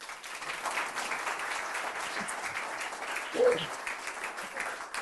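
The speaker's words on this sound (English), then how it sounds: "So thank you so much, Jan. A big applause." An audience at a Swedish future-themed event gives steady, moderately distant applause for a presenter, with a brief murmur of voices partway through.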